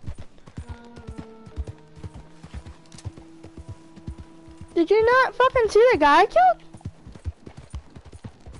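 Horse hooves clip-clop in a video game with dual-wielded pistols, a steady rhythmic patter running under loud, excited talk through most of the stretch.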